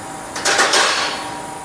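PVC pipe being cut by machine in a pipe factory, a single short grinding, hissing burst of about half a second over steady factory hum.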